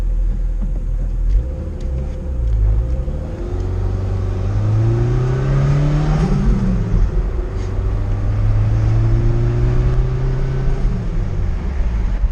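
A Gen 4 turbo car's engine revs and accelerates on a test drive, its pitch climbing through gears with a steady loud rumble close by.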